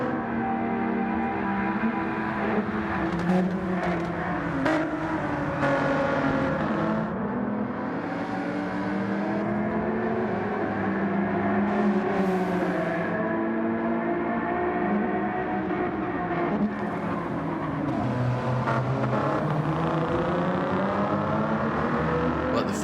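Race cars lapping Daytona's infield in a racing sim, including an Alfa Romeo 4C and a 4GT, engines droning and shifting pitch in a continuous roar beneath steady commentary.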